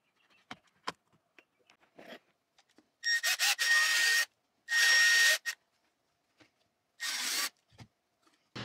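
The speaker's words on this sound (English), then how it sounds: "you just work the cover out because you need to drill a hole in there." A unibit drills a hole in the plastic dash cover of a Duramax truck, three loud bursts of drilling about a second long each, separated by quiet moments with faint handling clicks and rustles.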